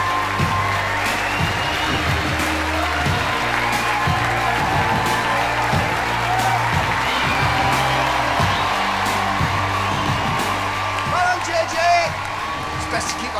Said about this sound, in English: Everybody's standing on their feet applauding, including the judges.